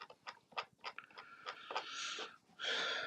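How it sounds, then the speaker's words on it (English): A cat making odd barking sounds, a faint series of short snorting, wheezy bursts that run into a longer raspy exhale. "my cat is barking. That's a bit weird."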